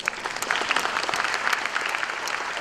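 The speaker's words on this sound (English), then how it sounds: "One more clap for her, please." Conference plenary session audience applauds in a dense, steady wash of many hands clapping together, sustained and fairly loud for the whole stretch with no talk over it.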